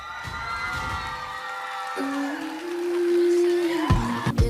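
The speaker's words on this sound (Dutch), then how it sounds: "Oorverdovend applaus voor de winnares van vanavond." A crowd at the Miss Dutch Caribbean 2026 pageant cheers and shouts for the winner, with whoops and sustained high voices rising over a steady roar.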